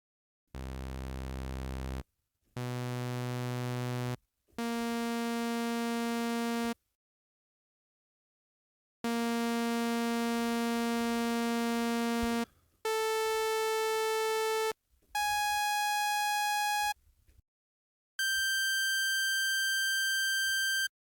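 A series of steady synthesized tones, each held for one to two seconds with short gaps, stepping higher in pitch and then falling again, played alone.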